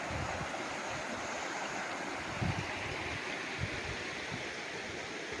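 River water flows along the boundary of a rural farm lot in Cavinti, Laguna, a steady broadband rushing with soft low gurgles, continuous and close throughout.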